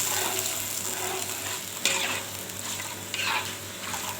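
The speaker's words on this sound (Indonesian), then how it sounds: "Aduk-aduk, jangan sampai bumbunya menggumpal" Spices and a little water stirred into an Acehnese fish stir-fry in a pan, a soft continuous sizzle with scraping strokes of the spoon and an occasional sharper clink against the pan.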